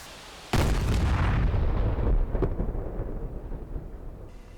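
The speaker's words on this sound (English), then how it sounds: "It's exploded, whatever it was." A sudden heavy explosion bursts in DCS World during an AH-64D Apache ground attack, booming loud and deep with a roaring blast that holds for about a second and a half, then rumbles and fades away.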